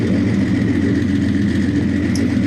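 A warmed-up Nissan Z engine idles steadily with a low, even rumble and constant hum, close and loud, with no talking.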